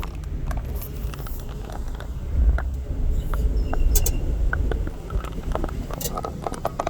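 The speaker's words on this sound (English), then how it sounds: "That cracking sound you hear in the background is" Scattered sharp cracks and creaks of plexiglass sheets pop irregularly over a low rumbling store background, stiff plastic flexing and cracking.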